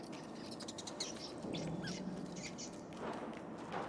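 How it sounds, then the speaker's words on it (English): A bird in the video game Dishonored: Death of the Outsider gives a few short, faint chirps and tweets against a hushed, noisy room-tone background. "Bird here, but in the hallways."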